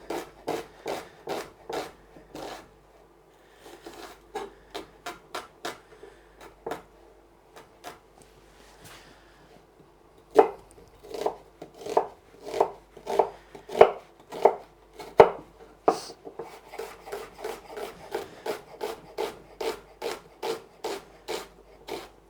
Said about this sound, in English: So this red onion I'm just gonna cut nice and fine for my risotto.